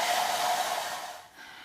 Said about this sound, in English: I'm going to just hit it with a blow dryer.